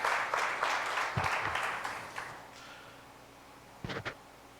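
Church congregation applause, a brief burst of clapping that fades over a few seconds, followed by a couple of faint knocks near the end.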